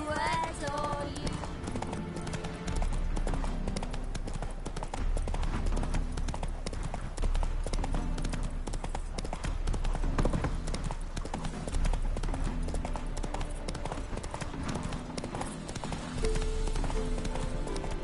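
Roach, Geralt's horse in The Witcher game, gallops with steady, rapid clip-clop hoofbeats that carry on throughout, over an orchestral score, with brief voices near the start.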